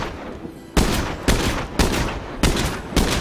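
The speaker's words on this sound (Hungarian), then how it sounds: "A Timberwolf-val lövöldözik rendesen." Timberwolf rifle shots in the State of Decay 2 video game, five loud, sharp reports fired at a steady rhythm roughly half a second apart, each with a short echoing tail.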